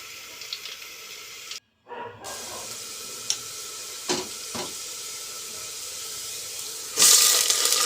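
Goat tripe frying with onions in a pan gives a steady close sizzle, broken by a brief silent gap and a few light clatters from stirring or adding pieces.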